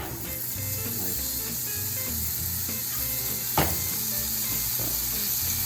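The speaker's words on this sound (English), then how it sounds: "Should get a nice sizzle here." Sizzling of food frying in a pan greased with a little canola spray, a steady close hiss for the whole stretch with small clicks and one brief clunk of the pan partway through.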